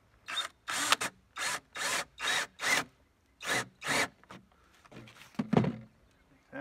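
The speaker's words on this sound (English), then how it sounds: "we start by just drilling one hole." A power drill bores a single hole through a cardboard template while a skid-mounted firefighting pump is built from an IBC container: a series of short, evenly spaced whirring bursts with brief pauses, fairly quiet and close.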